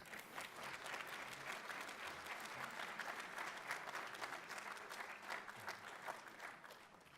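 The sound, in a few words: audience applause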